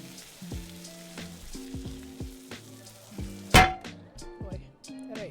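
Food fries and sizzles in a pan in the cooking game One Armed Cook, a crackling sizzle running beneath tonal game music, with one sharp loud burst midway.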